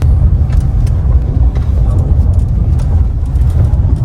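A 2025 Jeep Compass crossover backs up, its engine and tyres giving a steady low rumble throughout, close by and fairly loud with no talking.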